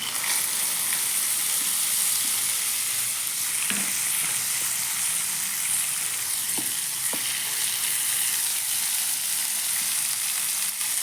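Seeds and curry leaves crackle and sizzle in hot oil while a chutney tempering is made, a steady close frying hiss with scattered sharp pops throughout.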